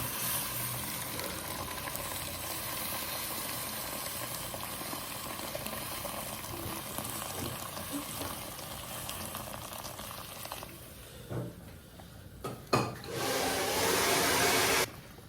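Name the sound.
fried meat sizzling and boiling after adding hot water for couscous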